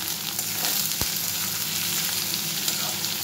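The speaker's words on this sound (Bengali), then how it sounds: "এবার আমি এই যে ওলকপিগুলো ছেড়ে দিলাম।" Pieces of kohlrabi drop into hot oil and fry with a dense, close sizzle, one sharp knock near the start, then steady crackling.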